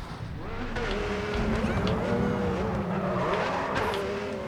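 Racing car in GRID 2 drifting through a corner, engine droning steadily with rising and falling pitch while tires scrub and skid, loud and close for a few seconds.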